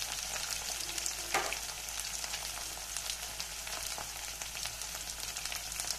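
Chopped taro (arbi) fries in an oiled pan for a sabzi, giving a soft continuous crackling sizzle with a brief scrape of stirring partway through, steady and fairly quiet, with no voices.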